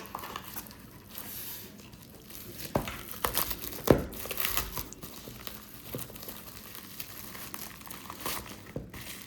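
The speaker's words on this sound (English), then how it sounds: "Comes nice and bubble wrapped." Bubble wrap crinkles and crunches as an XTEINK X4 e-reader package is unwrapped up close, with irregular rustling, tearing and a few sharper pops throughout.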